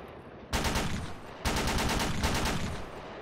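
Bursts of automatic rifle fire in the military shooter Project Reality, USMC gameplay: two loud rapid volleys with distinct rhythmic shots, close and alone.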